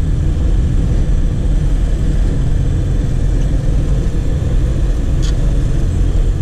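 A 1989 Chevrolet Chevette 1.6 SL drives along with a steady, loud low engine drone and road rumble filling the cabin, continuous throughout with no voices.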